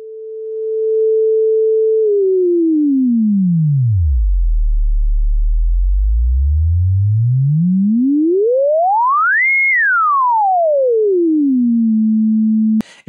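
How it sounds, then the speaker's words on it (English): A steady pure sine tone from a tone generator, used for testing speaker, monitor and headphone distortion, holds a mid pitch, glides down to a deep low hum, sweeps up to a high peak, then falls back to a steady mid tone, loud and alone. "just sweep frequencies and listen for distortions"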